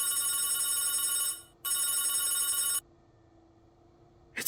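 An old telephone bell rings in two long bursts separated by a short gap, loud and close, then goes quiet before a brief click at the end.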